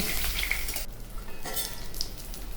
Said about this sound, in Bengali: পিঠটা ভাজা হয়ে গেলে আমি উল্টে দিয়ে অপর পিঠটাকে ভেজে নেব।